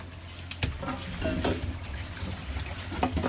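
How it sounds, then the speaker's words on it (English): Water released through a valve drains out of a stingray aquarium tank into the drains, giving a steady watery rush with a few sharper splashy bursts, fairly close and continuous throughout. "what I'm going to do now is turn the valve to release the water out of the tank down the drains."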